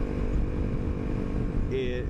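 A Honda CRF250L fitted with a Yoshimura spark arrestor exhaust is ridden along, its engine giving a steady, close droning rumble throughout, with a brief higher whine near the end.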